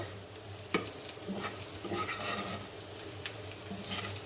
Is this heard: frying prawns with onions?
yes